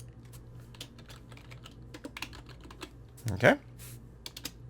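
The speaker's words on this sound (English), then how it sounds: "So let's type in here sawmill." Quick bursts of computer keyboard key clicks sound close up while a name is entered in a modded Minecraft game, and a brief spoken word breaks in partway through.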